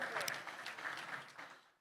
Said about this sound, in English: Do give the moderator and the panelists another round of applause.